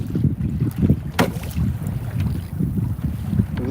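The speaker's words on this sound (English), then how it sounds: "Yeah, it's definitely getting windy." Wind buffeting a fishing boat out on open water, a steady low rumble of gusts across the microphone with water movement underneath, loud and continuous throughout.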